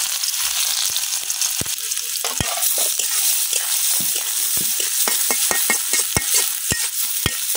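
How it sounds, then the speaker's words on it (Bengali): Chopped onion and garlic hit hot oil in a village kitchen, giving a steady, loud sizzle with sharp spattering pops and clicks of a spoon scattered throughout. "তেলটা কিন্তু গরম হয়ে গেছে, আমি তেলের মধ্যে দিতেছি পেঁয়াজ রসুন"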